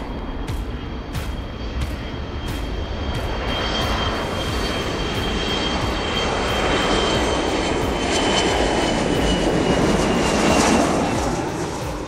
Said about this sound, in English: Time to marshal this plane into the gate.